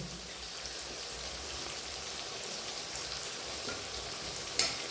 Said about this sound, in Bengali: ভাজা ভাজা হয়ে গেছে, এবার আমি এর মধ্যে টমেটোগুলো দিয়ে দিলাম।